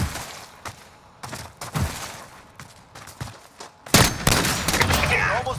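Bursts of video game gunfire crack out in a 1v1 match, short shots scattered early then a dense, louder volley near the end, with a voice exclaiming over the shooting.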